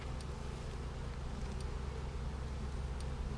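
Honey bees from a package colony buzz steadily inside an open hive, a dense, continuous hum close by with no talking over it.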